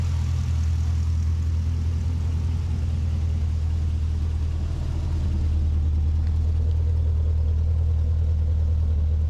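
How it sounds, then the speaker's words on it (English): An LS2 V8 idling in an early 79 series ute, a loud, close, steady low rumble with an even smooth tone throughout and no other sounds. "So it's idle pretty nice and smooth. No weird noises."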